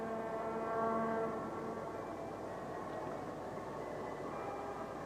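A Shinkansen Hikari bullet train runs through the long undersea tunnel beneath the Kanmon Straits, a steady, muffled rolling roar with faint tonal hum, even and unbroken throughout.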